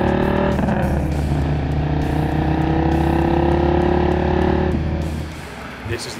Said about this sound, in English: extremely huge displacement 8-liter V10 with a one-of-a-kind sound that's loud,